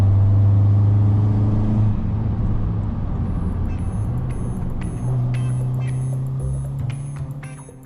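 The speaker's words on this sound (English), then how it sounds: "the turbo noises." An Abarth 595 Competizione accelerating hard, its loud engine drone climbing steadily and then easing back, with turbo whooshes and faint high whistles over the close, continuous rumble.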